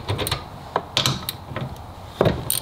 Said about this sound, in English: we're gonna just start taking these bolts off